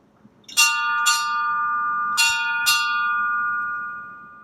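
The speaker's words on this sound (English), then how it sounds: "Here is 4 bells struck in the correct manner." A ship's bell aboard the tall ship Providence is struck four times in two quick pairs, clear metallic rings that sustain and overlap before fading.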